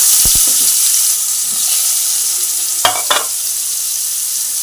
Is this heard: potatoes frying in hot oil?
yes